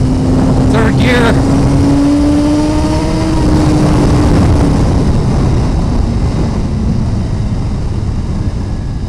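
Suzuki GSX-R1000R sport motorcycle (2017) ridden in third gear on a hot day, a steady loud engine drone with rising tonal whine early on, wind roar throughout, a brief voice near the start.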